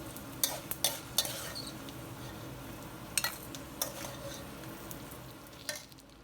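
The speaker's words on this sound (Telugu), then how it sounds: "ఈ ఫ్రై అయిన ఈ పోపునంతా ఒక ప్లేట్లోకి తీసేసుకుందాం" Fried tempering spices scooped with a spoon from an oily pan onto a plate, with soft steady sizzling broken by sharp scraping clinks at irregular intervals, close and without talk.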